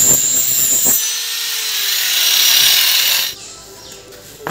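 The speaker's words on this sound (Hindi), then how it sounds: "आरी मेरे पास नहीं है, तो इसलिए फिर मैं ना इसी ग्राइंडर के साथ इसको कटाई कर रहा" An angle grinder cuts through wood for a frame, whining loudly at a high pitch for about two seconds after a short start, then spinning down and falling away.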